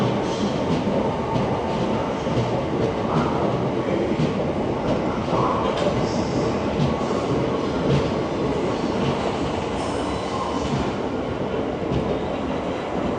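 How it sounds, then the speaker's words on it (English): An eight-coach passenger train rumbles steadily through a station at close range, a continuous loud roar of wheels and carriages with faint rhythmic clatter throughout. "This train is formed of 8 coaches."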